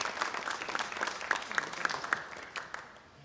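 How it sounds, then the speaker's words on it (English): A panel audience at a sustainable surfing open house gives a short, fairly faint round of applause, even clapping that fades away toward the end, with a steady tone sounding in the background. "A round of applause for our amazing panelists."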